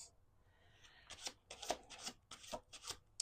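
Playing cards being shuffled by hand at a table, quiet riffling and rubbing bursts repeating in a loose rhythm, close and soft with no voices.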